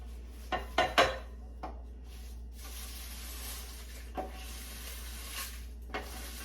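Crispy baked kale chips are dumped into a bowl, giving a few light rustling crunches and clinks near the start, then fainter scattered rattles over a low background hum.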